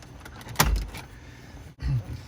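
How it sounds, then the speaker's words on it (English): Shifter cable clips on a C6 Corvette snapping out of place, a sharp close click followed by brief rattling and a second duller snap, inside the car's cabin with no talk. "I'm going to pull this back, and those clips will snap out of place"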